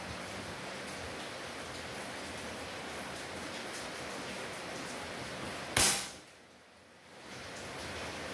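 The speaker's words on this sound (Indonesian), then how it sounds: "Ini kondisi hujan" Rain falls outdoors during an air rifle accuracy test as a steady, even hiss. One sharp, loud shot cracks near the end and is followed by a brief hush before the rain noise returns.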